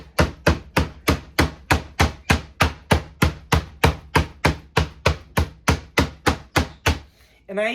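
A meat mallet's flat side pounds meat on a board in a steady, even rhythm, about twenty sharp thuds at roughly three per second, close and loud, ending with a short scraping sound.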